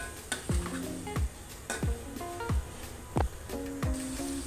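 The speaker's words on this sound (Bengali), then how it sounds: "এখন আমি ভেজে রাখা চিংড়ি মাছগুলি দিয়ে দিচ্ছি, একটু" Fried prawns are stir-fried in a pan with a light sizzle while a utensil repeatedly scrapes and taps against the metal, giving about seven sharp clinks at irregular intervals up close.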